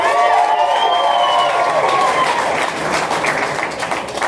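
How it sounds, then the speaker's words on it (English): A comedy-club crowd at a theatre in Atlanta bursts into loud applause with cheers and whoops, the clapping dense and close, with a few shouted voices riding on top before it thins slightly. "By a round of applause, who here was involved in the movie?"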